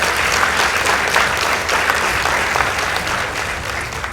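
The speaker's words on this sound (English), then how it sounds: "Please give them a round of applause" A studio audience at a school competition applauds two secondary schools declared tied. The applause is full and sustained, tapering slightly toward the end, with no voices over it.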